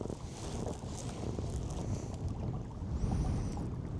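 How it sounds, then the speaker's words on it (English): Strong wind around 20 miles an hour buffeting the microphone over open water from a pedal-driven kayak platform, a steady loud rushing roar with gusts and faint water noise. "The wind is blowing, if I had to guess, about 20 miles an hour"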